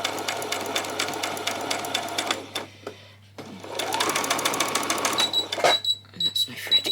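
Close, steady whirring of a sewing machine stitching across skirt fabric to close a gap. It comes in two runs split by a brief pause, followed by a few light clicks.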